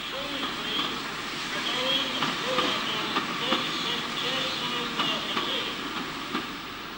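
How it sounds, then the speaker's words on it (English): A Maunsell L1 4-4-0 steam locomotive of 1926 on a down local train drawing into Tunbridge station, a steady rhythmic chuffing with hissing steam and rolling wheels, fairly close. "This is one of Mansell's post-grouping L1440s of 1926, arriving at Tunbridge on a down local in March 1961."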